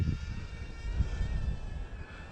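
Fei Xlong FX601 Air Herald RC airplane in flight, a faint distant propeller buzz with wind-like rumble over a couple of seconds, fairly quiet and steady.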